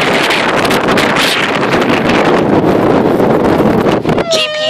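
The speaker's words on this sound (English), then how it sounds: "the wind is picking up." Strong blizzard wind during a whiteout in Iowa, roaring steadily and loudly as broadband rushing noise buffeting the microphone close up, with a brief lull and faint high whine near the end.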